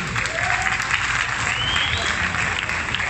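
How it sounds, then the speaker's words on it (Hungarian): Audience applause for two boxers at a professional boxing event, a steady dense wash of clapping filling the hall with faint crowd noise and a whistle-like tone rising through it. "Egy nagy tapsot szeretnék kérni nekik."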